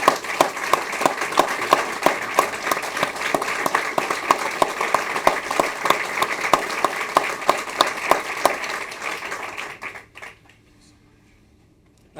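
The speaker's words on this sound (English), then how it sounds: "Let's have a round of applause." An audience applauds winners of an ESGR Pro Patria Award at a Freedom Award ceremony. Full, crisp clapping from many hands holds steady for about ten seconds, then stops and leaves a quiet room.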